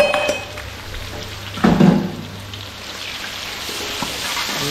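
Garlic and ginger sizzling in hot oil in a pan while a Kerala curry is cooked, a steady frying hiss with a brief louder burst of spattering as they drop in, no talking.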